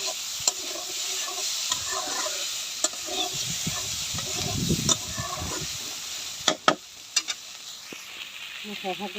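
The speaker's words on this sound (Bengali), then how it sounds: "সয়াবিনটা ভালো করে মিশে মিশিয়ে দেবো" Fried soybean chunks being mixed into a spiced vegetarian curry in a pan, with a continuous bright sizzle and repeated scraping stirs, close up, and a few louder clanks of the spoon near the end.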